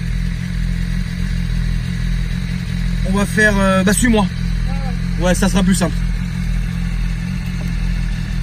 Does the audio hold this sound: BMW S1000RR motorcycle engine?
yes